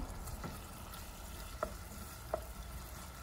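Onion paste fries in a pan with whole garam masala (cinnamon, bay leaf, cardamom, cloves) for chicken bhuna, giving a soft, steady sizzle broken by a couple of light stirring clicks.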